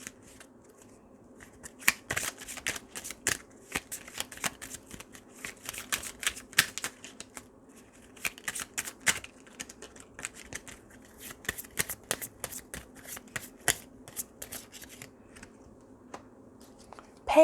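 Soft, close riffling and snapping of tarot cards being shuffled by hand in a quiet room, in irregular bursts over a faint steady hum, with no voice.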